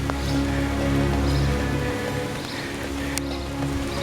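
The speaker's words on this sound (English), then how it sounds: "It's starting to rain again." Rain falls steadily during a strong wind storm on the west side of Saginaw, Michigan, a dense, constant wash of drops with a low rumbling undertone that holds throughout.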